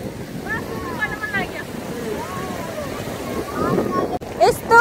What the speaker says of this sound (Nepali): हामी चाहिँ अहिले समुद्रमा आइपुग्यौँ